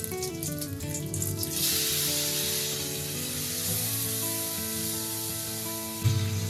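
Cashews, raisins and tomato sizzle steadily in a frying pan, a continuous hiss with a sharper spray at the start and a brief clatter near the end, no voices.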